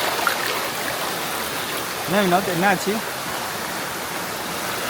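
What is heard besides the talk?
small waterfall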